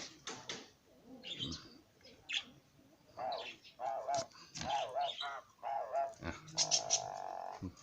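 Several birds call and chirp in short repeated phrases, moderately close, with a few low croaking notes mixed in and no talk over them.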